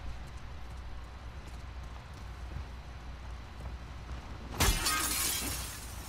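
Glass shatters in The Last of Us Part II, one sudden bright crash followed by a tinkling scatter of shards, after several seconds of quiet ambient game noise.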